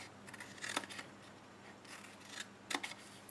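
Scissors snip through cardstock while a small cupcake wrap box is made, a few short crisp cuts in separate bursts, close and fairly quiet, with no talking.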